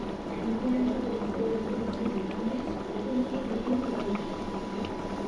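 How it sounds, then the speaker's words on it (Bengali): Curry bubbles in a pot at a low, steady simmer, with a continuous soft gurgling burble and no clear speech. "যেন ভালো মতো সিদ্ধ হয়ে যায় আর এইখানে তরকারিটা বসাই দিচ্ছি"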